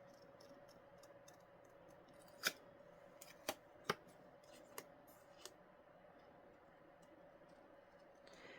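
Scissors snip paper in a few sharp, quiet cuts spaced over several seconds, with soft ticking handling sounds in between against a low, steady background.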